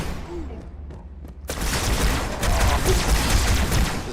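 A Covenant carbine fires in a Halo 2 campaign battle: a few sparse sharp shots first, then a dense, loud, continuous stretch of rapid gunfire and explosions.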